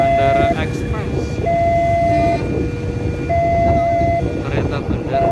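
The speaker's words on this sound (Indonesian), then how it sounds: "Kereta bandara." An airport train rumbles steadily along with repeated electronic tones sounding over the noise, and voices can be heard underneath.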